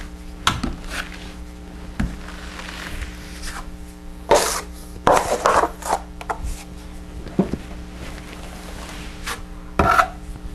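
A drywall knife spreads and scrapes a tight skim coat of mud over a textured wall, heard as separate rasping strokes and scrapes at irregular intervals with quiet gaps between them.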